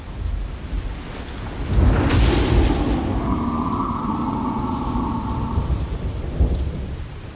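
Heavy rain pours steadily in the game South of Midnight while a loud rolling thunderclap booms in and rumbles on for several seconds, with no voices.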